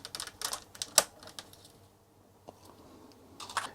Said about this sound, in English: So now the remaining keys can be pulled.